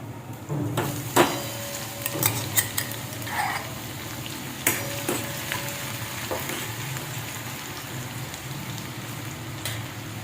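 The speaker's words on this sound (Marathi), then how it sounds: "त्यामध्ये आता थोडीशी चिमूटभर मोहरी टाकूया, थोडीशी जिरी टाकूया. हे छान तडतडून देऊ आपण" Mustard seeds and cumin crackling in hot oil for a traditional cowpea-potato curry tempering, a dense close sizzle studded with sharp pops and spatters scattered unevenly across the stretch, no voices.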